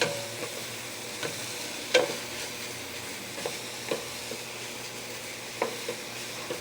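Onions, pimento and thyme stirred and frying together in a single pot, giving a low steady sizzle with occasional soft spoon scrapes and knocks.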